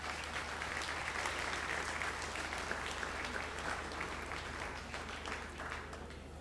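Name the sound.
audience applause at open house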